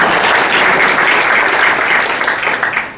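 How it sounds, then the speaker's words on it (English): Loud, dense audience applause at a State of the City address, sustained clapping from a crowd that fades slightly toward the end. "You get all the applause on that one."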